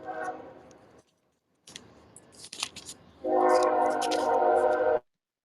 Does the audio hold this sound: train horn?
yes